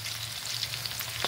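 Curry leaves hiss and crackle as they drop into hot oil in a pan while an Andhra-style roti pachadi chutney is cooked, a steady close sizzle with no talking.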